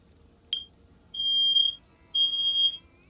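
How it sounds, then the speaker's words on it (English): A household smoke detector gives a short chirp and then two long, steady, piercing beeps, close and loud, with a quiet room behind and no one talking. "I just heard a beep from my fire alarm"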